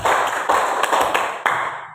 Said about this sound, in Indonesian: tepuk tangan untuk Irsan